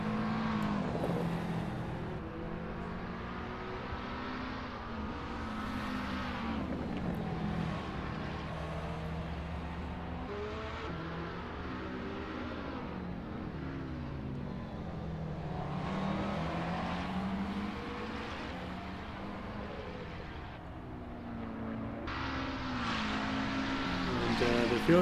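Race cars lapping Laguna Seca in a sim racing game, a continuous loud engine drone whose pitch rises and falls through gear changes and corners, with several cars overlapping.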